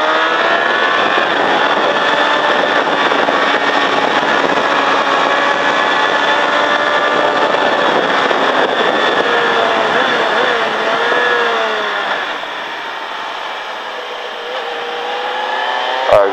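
Race-track motorcycle at Mettet throttling continuously at high revs, a steady loud engine drone with slight pitch shifts, easing off toward the end before a final burst.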